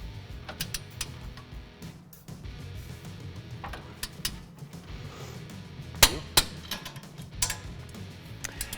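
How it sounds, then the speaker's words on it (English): A wrench tightening the lower shock bolt nut on a 2018 Toyota Tacoma 4x4 during a leveling kit install, sounding as scattered light metallic ticks and clinks at close range in a quiet workshop. "It's a little bit awkward to get in there, but just hold one side and then tighten the nut down."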